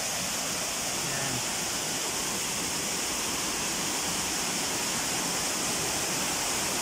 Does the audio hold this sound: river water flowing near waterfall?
yes